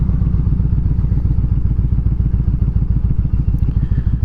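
A Harley-Davidson Evo Road King motorcycle rides along with a loud, steady low engine rumble and rapid pulsing exhaust beat, heard close from the rider's position, with no talking.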